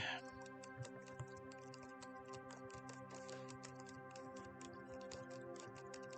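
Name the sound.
laptop keyboard typing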